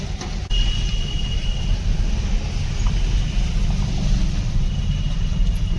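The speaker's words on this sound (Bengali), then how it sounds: "সামনে একটা সিমেন্টের বস্তা নিয়ে গাড়ি যাচ্ছে।" A car driving along a badly broken road in rural West Bengal gives a steady, close engine rumble and rough road noise with faint rattles, running continuously with no talk.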